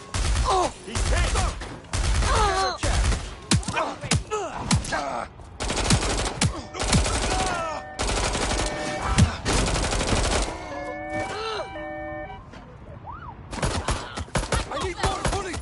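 Gunfire in Watch Dogs: Legion, loud repeated bursts of shots in quick volleys with brief gaps and a short lull near the end, with no talking.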